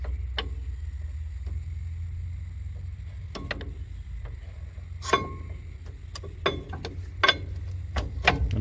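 Bolts being tightened on a Ford Econoline front brake assembly: sparse metallic ratchet clicks and taps, a few louder clanks spaced irregularly over a quiet background hum.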